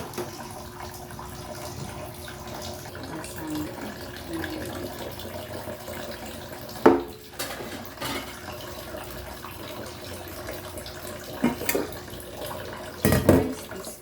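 Running water from a tap pours steadily while fresh shrimp are washed, a soft continuous flow with a few louder splashes and clatters near the end.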